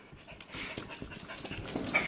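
Overheated dogs panting close by, quick rhythmic breaths in a short burst, fairly quiet and without talk.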